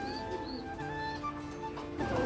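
Pigeons coo softly at a pigeon farm in West Bengal, with low repeated calls and faint chirps heard close over a quiet background.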